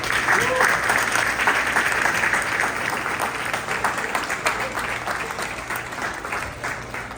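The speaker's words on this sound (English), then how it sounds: "let's give them a big round of applause" A large crowd at an India Independence Day celebration applauds dignitaries with steady, sustained clapping that fills the hall evenly for several seconds, fairly loud and close.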